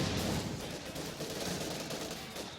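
Dense, continuous battlefield gunfire with rifle and grenade shots in Company of Heroes 2, a 2v2 match on the winter map Semoisky. Loud overlapping reports roll on without a break for the whole stretch.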